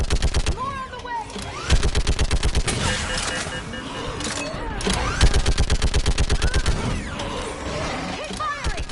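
Mass Effect 3 combat gunfire: rapid automatic bursts crackle in long strings with mechanical clanks, and shouted voices rise over the loud, dense firing.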